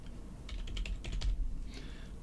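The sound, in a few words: typing code on a computer keyboard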